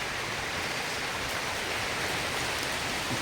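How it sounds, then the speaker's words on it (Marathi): Steady, dense hiss of the first monsoon rain falling continuously on surfaces in a Ratnagiri village, even and unbroken throughout. "पावसाला सुरुवात झाली थोडं बरं वाटलं थंड थंड वाटलं"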